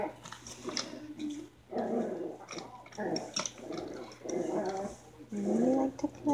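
Six-week-old puppies play-fight nearby, with growls, yips and small barks coming in busy bursts while a person speaks over them.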